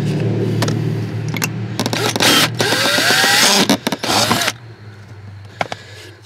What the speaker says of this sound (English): I'm just drilling a couple little holes